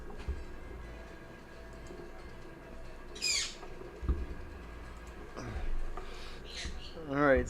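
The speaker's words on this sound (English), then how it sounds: "The bird is going crazy." A bird calls loudly a few times in a room, sharp squawking bursts scattered among light background noise, with faint indistinct talk underneath.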